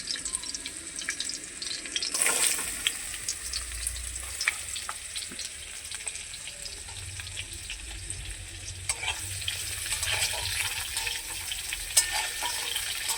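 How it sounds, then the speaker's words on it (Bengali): Chopped onion and crushed garlic cloves fry in oil with tempering spices for masoor lentil dal, giving a quiet, continuous sizzle with scattered light clinks and scrapes of stirring. "ফোড়নের সঙ্গে পেঁয়াজ কুচি আমি একটু ভেজে নেব।"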